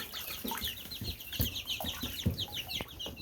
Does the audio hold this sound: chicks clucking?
yes